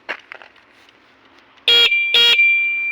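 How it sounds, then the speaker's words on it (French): A 24-volt electric horn on a customized, electrified Veneto Canellini cruiser bicycle sounds two loud, close blasts, the second held longer than the first, with no talking. "Alors le klaxon il est ici,"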